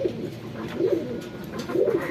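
Domestic pigeons kept on a rooftop coo in repeated soft, throaty rolling calls, close and clear, about three phrases in two seconds, with no talking.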